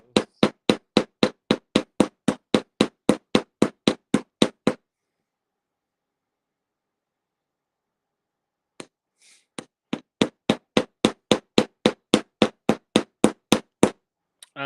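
Sharp metal hammer blows fall in fast, even series on riveted jewelry links, a long run of strikes, a pause of silence, then another steady run, loud and close.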